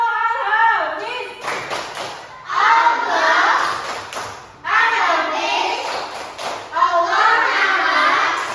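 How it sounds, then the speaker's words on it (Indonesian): Schoolchildren in a second-grade class perform the Tepuk Al-Hafiz clapping chant, with bursts of rhythmic hand claps between lively group chanting in young voices. "Ini kita tepuk Al-Hafiz dulu ya."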